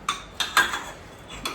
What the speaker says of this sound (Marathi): हे बघा कशी भांडी घासते